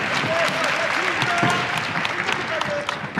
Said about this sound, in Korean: 1라운드 드럼 큰 박수로 시작하겠습니다.